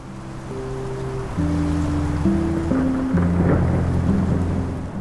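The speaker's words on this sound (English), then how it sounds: "Somewhere far off, thunder rolls once, low and unhurried, more felt than heard" Low rolling thunder rumbles in the distance beneath a steady hiss of falling rain, continuous and unhurried.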